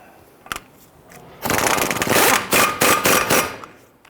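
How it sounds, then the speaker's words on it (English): A power impact tool rattles for about two seconds as it snugs down the front axle nut on a 2011-2017 Nissan Quest wheel hub, after a short metallic click and tap, close and loud. "Let's snug down our axle nut."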